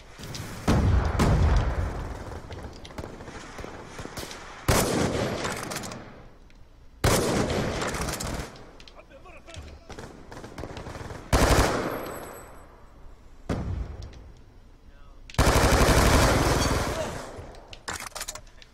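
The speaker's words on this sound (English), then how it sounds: "Sniping noise." Gunfire in a Call of Duty-style shooter game with a DSR sniper rifle, several loud bursts and booming shots in separated clusters with quieter gaps between them.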